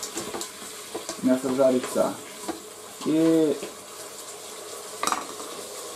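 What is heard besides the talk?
duck meat frying in a multicooker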